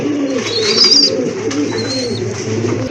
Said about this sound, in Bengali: হ্যাঁ ইরানি গ্রিজেল কবুতর